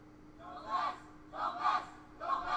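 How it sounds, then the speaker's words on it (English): Three short bursts of crowd cheering from a PowerPoint sound effect, each a rising swell of voices shouting, fairly faint and evenly spaced. "There's some crowd cheering."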